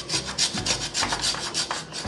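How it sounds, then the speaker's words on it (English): Key lime zest is scraped onto a key lime pie, giving a quick series of close, rhythmic rasping strokes, alone and fairly soft. "now we're just going to add some key lime zest on top, like so, just to give it some garnish"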